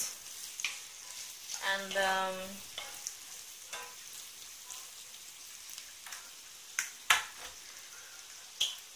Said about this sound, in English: Oh, just give that a good mix.